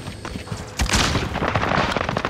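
A frag grenade goes off in Call of Duty: Modern Warfare, a loud sudden blast that bursts in and rolls on into a dense wash of gunfire and crackling combat noise.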